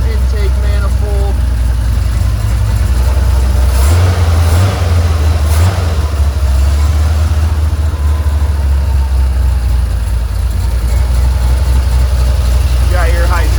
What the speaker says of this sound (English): Custom-built 400 small block Chevy engine. It's got a mild cam, as you can hear in the exhaust low.